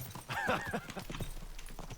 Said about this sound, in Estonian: ütle oma hobusele, et sõidaks kiiremini